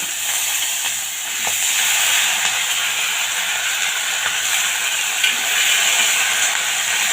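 Nigella seeds, torn bay leaves, green chilli and ginger paste tempering in hot oil, a loud continuous hissing sizzle with a few faint stirring clicks, close up and without speech.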